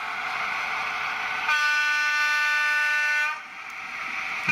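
A Bachmann Class 55 Deltic model diesel locomotive horn sounds one steady, bright multi-tone blast lasting under two seconds, set against the continuous hum of the small locomotive running on test track.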